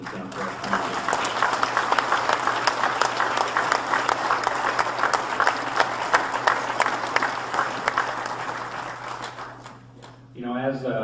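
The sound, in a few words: crowd applause for Jim at veterans ceremony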